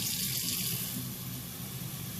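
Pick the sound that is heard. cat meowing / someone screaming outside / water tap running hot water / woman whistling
water tap running hot water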